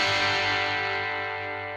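An electric guitar with a fat 50s-style pickup played through a tube amp's distorted channel, one sustained gritty chord ringing out and slowly fading, with no talking.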